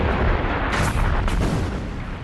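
World War I artillery shells fire in a dense, loud, continuous barrage of deep booms and rumbling blasts that overlap with no break.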